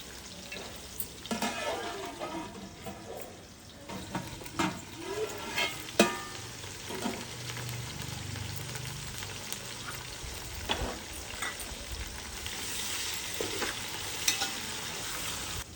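Sliced onions fry with a little salt in a pan for a tamarind pulusu, giving a steady close sizzle with scattered spoon scrapes and clicks and no talking.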